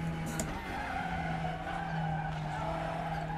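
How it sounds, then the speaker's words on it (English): Race car tires skidding and squealing under locked-up brakes in the Raceroom WTCR 2021 pack, a steady loud scrub over droning engine note, no talking. "Lock up on the brakes."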